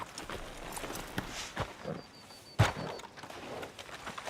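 Horse hooves clip-clopping in Red Dead Redemption 2 outside a sheriff's office in town, a soft irregular walking patter with one sharp thump partway through, faint ambience around it.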